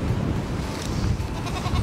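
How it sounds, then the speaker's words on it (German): Goats bleat at a seaside campsite, Camping Duinoord aan Zee in Westenschouwen, Zeeland. Their calls are partly masked by heavy wind rumble and a constant outdoor roar throughout the short stretch. "Die Ziegen sind echt süß"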